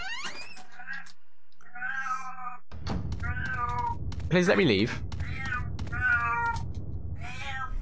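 Meowing from a cat in the video game Resident Evil: Code Veronica X, several clear high mews near and loud, with a game character's voice speaking in between.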